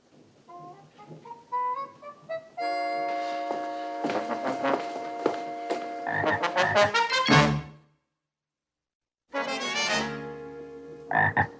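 A frog in a TV sitcom scene croaks in a comic, musical way, rising pitched calls in quick runs with a brief silence before a final burst, loud and close.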